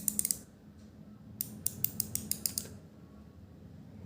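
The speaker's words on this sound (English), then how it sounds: "when we apply force on ratchet, at some point, click sound is heard" A micrometer ratchet being turned under force gives a few quick clicks, a pause, then a steady run of about eight crisp, evenly spaced clicks, close and clear over a faint low hum.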